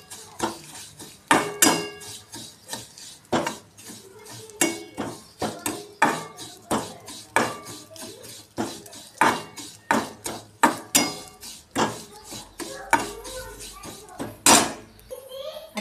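Roasted vermicelli being added to a pan for sweet kheer and stirred, with repeated sharp clinks and scrapes of a utensil against the metal pan, steady and close, with no talking.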